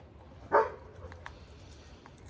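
A dog gives one short, fairly loud bark indoors, a brief single burst over a quiet room background with no talk.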